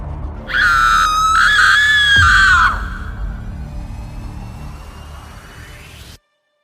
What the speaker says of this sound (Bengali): হঠাৎ একটা চিৎকার শুনলেন।